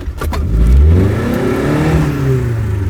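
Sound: off-road car engine revving, stuck in mud

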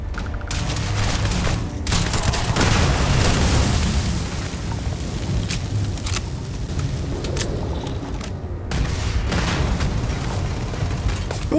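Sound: rockets firing and exploding in the video game Starfield

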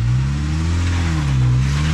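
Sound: Jeep engine driving on a canyon trail

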